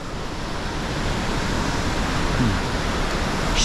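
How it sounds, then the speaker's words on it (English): A waterfall along the Miller River roars as steady, broadband rushing water, loud and continuous throughout with no voices over it. "we have gotten to our waterfall."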